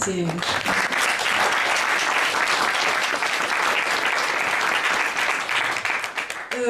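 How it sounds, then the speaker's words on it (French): Audience applause for volunteers at the opening of a symposium, steady dense clapping from a large crowd lasting several seconds, loud and continuous before tapering at the end. "je vous encourage à les applaudir chaleureusement"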